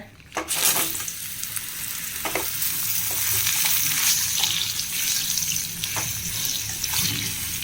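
Pointed gourd pieces with salt and turmeric fry in a pan with a loud, continuous close sizzle, broken by occasional clicks and scrapes of a spoon stirring them.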